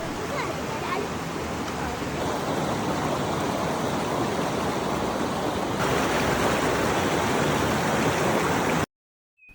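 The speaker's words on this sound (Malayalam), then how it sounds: "അവിടെ നല്ലൊരു പുഴ കണ്ടു. നല്ല തെളിഞ്ഞ വെള്ളം." A clear forest river rushes in a steady, broad wash of flowing water, loud and continuous, ending in an abrupt cut to silence.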